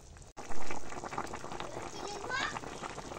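A cauliflower curry with snakehead (shol) fish, tomato and potato simmers uncovered in a pan, giving a steady bubbling hiss. Children's voices chatter faintly in the background.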